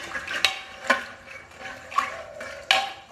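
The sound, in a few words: stirring peas with salt and turmeric in a pot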